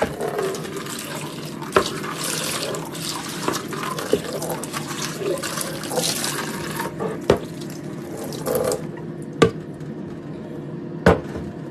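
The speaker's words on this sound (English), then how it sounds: "So let me just quickly wash this out." Water runs steadily from a kitchen tap as a container is rinsed out in the sink, with occasional sharp clinks of the container against the basin; the sound is close and continuous and no one speaks.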